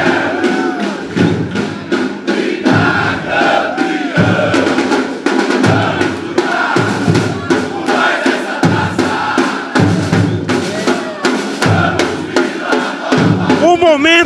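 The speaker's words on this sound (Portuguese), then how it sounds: "No aeroporto, a torcida, antes mesmo do time chegar, já com os cânticos do clube." Football fans of the club crowd an airport before the team arrives, loudly chanting club songs together, with rhythmic thumps and shouted voices in a dense, continuous roar.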